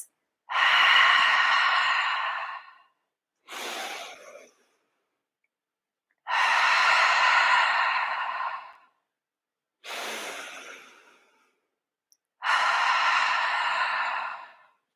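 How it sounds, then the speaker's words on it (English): Slow, audible exhalations through the mouth during a gentle yoga flow, five long breathy releases alternating with shorter softer breaths, close and clear with quiet pauses in between. "So use the mouth to breathe out as that release."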